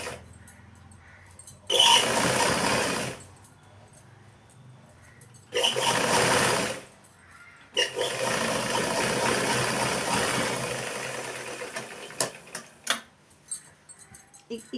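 A sewing machine runs in three bursts of double stitching, each a loud steady whir lasting a second or a few seconds, with quiet pauses between and some light clicks near the end.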